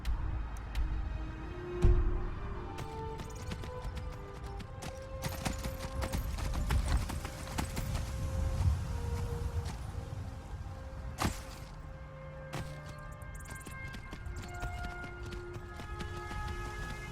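Horse hooves clip-clop in a steady trotting rhythm while riding in Skyrim, close and moderately loud, with occasional heavier thuds and faint tonal game sounds in the background.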